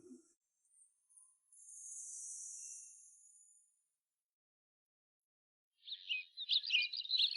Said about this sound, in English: the birds were still twittering.